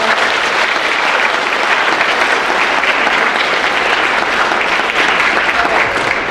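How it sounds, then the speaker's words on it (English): A Veterans Day ceremony audience gives the choir a big round of applause, loud sustained clapping from a large crowd that carries evenly through the whole clip. "Can we give our choir one more big round of applause?"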